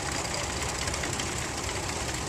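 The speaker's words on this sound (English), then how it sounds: "this is the smallest Caterpillar tractor ever made" A mid-1920s Caterpillar Cat 10, the smallest Caterpillar tractor made, drives past in a parade with a steady, loud, rumbling engine chug that has a fast knocking rhythm and no break, with no talking over it.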